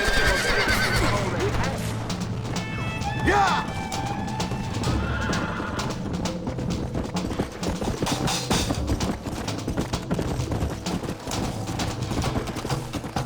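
A horse neighs loudly near the start, then hooves clip-clop steadily under a busy background while someone shouts briefly, in the video game Red Dead Redemption.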